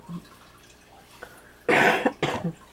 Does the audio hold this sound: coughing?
yes